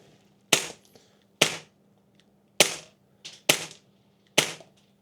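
A Krytac MAXIM9 airsoft pistol snaps off five sharp, separate shots with pauses between them, each a crisp close crack against a faint hum, with no talking.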